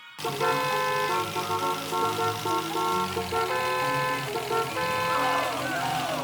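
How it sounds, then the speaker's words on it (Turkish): Cartoon car horns honk in a busy traffic jam, several sustained tooting tones overlapping and layered over a bright playful music bed, steady and fairly loud throughout. "burada çok büyük bir trafik oluşmuş"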